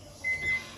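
A microwave oven that has just finished warming a mug of coffee gives a short, quiet beep, a thin steady tone lasting about a third of a second, heard alone against low room noise.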